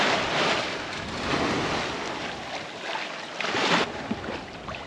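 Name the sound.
wind at sea on a 30ft sailboat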